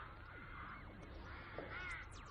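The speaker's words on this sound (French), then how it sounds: "À l'exception de quelques cris de corbeaux, un calme étrange règne sur le laboratoire" Crows caw a few times, distant and faint, over a quiet, steady background hush near an eerily calm laboratory.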